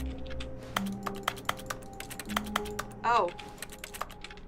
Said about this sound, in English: I'm still typing on a computer that's over there